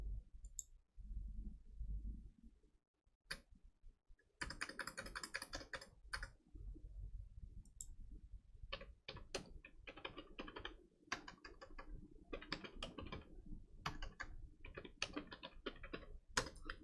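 Typing on a computer keyboard, with close, rapid clicking key presses in irregular runs and a few brief pauses.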